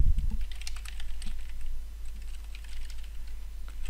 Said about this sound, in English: Now I'm going to type the Hibernate configuration